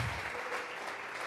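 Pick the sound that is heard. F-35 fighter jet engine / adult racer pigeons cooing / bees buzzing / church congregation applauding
church congregation applauding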